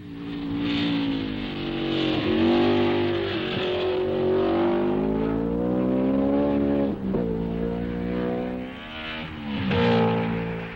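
A Grand Prix race car at the Nürburgring drones loudly with a harmonic engine roar that rises and falls through shifts and corners, sustained and close.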